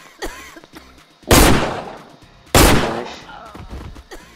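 Gunshots ring out in a Roblox combat game: two loud, sharp blasts about a second apart, each trailing off with a short decay, alongside lighter game sounds.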